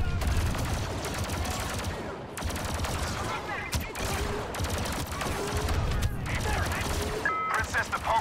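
Blaster fire from troopers in the Star Wars Battlefront 2 video game crackles in dense, continuous volleys with booming hits, loud and close, while voices talk over the battle.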